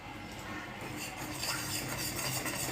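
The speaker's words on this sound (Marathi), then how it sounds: "आता हे चांगलं मिक्स करायचं याला." A spoon stirs a syrup mixture for homemade gola, making a steady scraping swirl with faint clinks of utensil against the container, close and fairly quiet.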